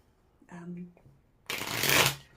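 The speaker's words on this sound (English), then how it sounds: "me give it one more shuffle." A brief murmur of a voice, then a quick burst of playing cards riffled and shuffled close by, ending abruptly.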